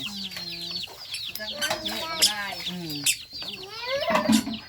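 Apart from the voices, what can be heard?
golden chicken clucking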